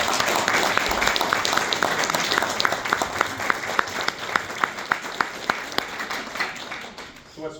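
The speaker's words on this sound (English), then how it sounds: "So let's give Jay a round of applause." Audience at an anniversary celebration for a Catholic newspaper editor applauds, a sustained patter of many hands with a few sharp individual claps standing out, tapering off near the end.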